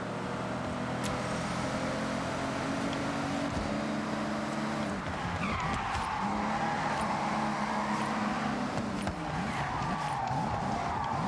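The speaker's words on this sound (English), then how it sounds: "Slipping and sliding my Bentley around" A Bentley Continental with over 600 horsepower drifts in the racing game Forza Horizon 6, its engine roaring steadily throughout while tires squeal and skid in rising swoops, loud and continuous with no talk.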